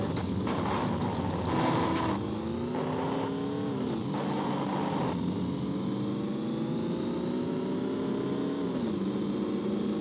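In the video game Payback 2, a taxi car drives with a continuous loud engine drone whose pitch climbs and drops through gear changes, steady and close, with no talking.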